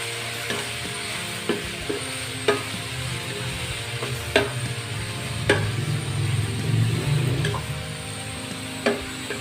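Miki noodle soup is stirred in a cooking pot, with a spoon scraping and clinking against the metal at a slow, uneven rhythm of sharp knocks over a constant low sizzling bubble, with no talking.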